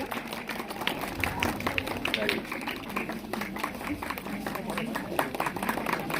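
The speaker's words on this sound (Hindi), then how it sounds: "ताली बजाते हैं बच्चों" Children clapping at a school guidance and counseling ceremony, a steady patter of many hands close by, continuing under an adult speaking.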